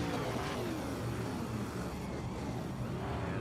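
Race car engines drone in a dense, steady layer of overlapping motor noise as the field rolls off at Concord Speedway, a short half-mile oval in the iRacing video game, with no talk.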